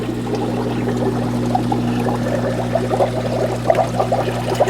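Water percolating inside an aquarium Surf algae unit, a continuous bubbling trickle with small splashy pops over a steady low pump hum, close by and fairly loud.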